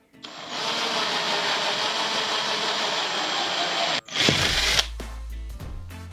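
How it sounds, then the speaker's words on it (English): Handheld power drill turning a twist drill bit into a center punch mark, a steady close whine for about four seconds, then a brief stop, a short second burst and clattering handling noise. "take the tip of this drill bit and guide it into that little hole that we made with the center punch"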